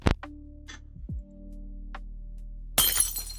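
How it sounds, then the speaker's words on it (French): Window glass shatters in the video game Milo and the Christmas Gift: a sharp crash at the start, a few small clinks and ticks, then a bright burst of breaking glass near the end, with no talk. "Oh, j'ai pété la fenêtre."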